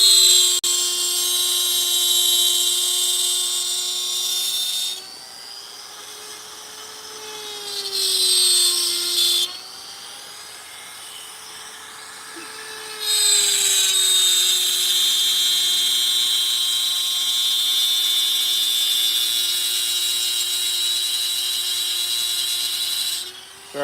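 A chainsaw carves wood outdoors in Arizona, its engine whining high and steady for long stretches, then dipping to idle and revving back up as it bites into the wood, loud and close throughout.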